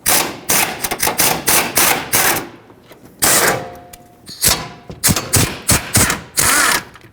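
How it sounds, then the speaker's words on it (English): 13mm battery tray mounting bolts being removed from a Nissan Pathfinder, loud rapid bursts of ratchet or impact tool rattling in short repeated runs with brief pauses between them, up close and without talk. "Now let's take out these 3"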